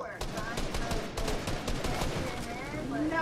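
Gunfire in a Fortnite battle royale game crackles in rapid bursts of automatic shots, dense and continuous, with voices talking over it.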